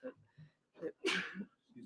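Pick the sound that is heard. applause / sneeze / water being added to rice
sneeze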